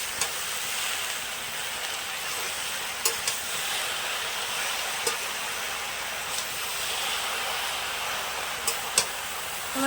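Pumpkin greens frying in a hot wok give a steady, even sizzle and hiss throughout, with a few faint clicks of stirring and no voices.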